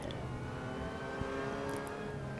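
A Mazda MX5 in Assetto Corsa, on track at Jarama, holds a steady, buzzing engine drone at full throttle, fairly quiet and even, with a faint tonal whine and no talking.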